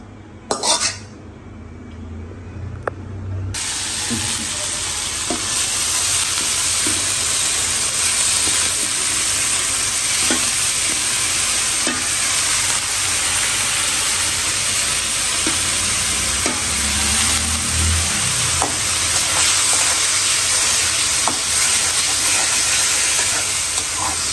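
Bhuna dal frying in a pan at home gives a steady, loud sizzle throughout, broken by occasional clinks and scrapes of a spoon stirring against the metal.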